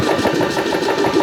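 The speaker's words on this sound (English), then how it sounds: "Fair amount quieter compressor." An Air Venturi Rovair personal air compressor runs with a steady, fairly quiet mechanical hum and a faint rapid pulsing throughout the short stretch.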